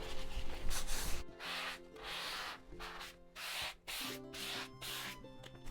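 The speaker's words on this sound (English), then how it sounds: "I will lightly buff it with you here, so you can see what I mean when I say I buff things." A page coated with Daniel Smith watercolor ground is lightly buffed by hand, giving close, soft rubbing strokes in irregular bursts separated by brief pauses.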